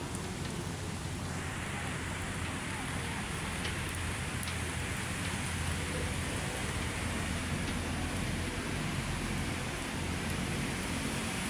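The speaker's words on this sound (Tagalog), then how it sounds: "malakas ang ulan" Heavy rain pours steadily over Manila Bay, a dense, constant hiss of water with no letup throughout.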